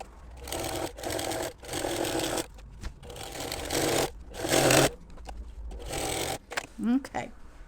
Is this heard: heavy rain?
no